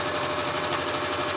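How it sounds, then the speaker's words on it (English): Sewing machine running steadily as it stitches through a towel, a continuous close buzzing whir with a fast even rhythm and no voices. "I'm just going to sew it all the way through, and that way I'll get the towel"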